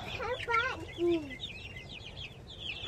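Chickens cluck and chatter inside a backyard chicken coop, with a few louder squawks early on followed by softer, scattered clucks nearby.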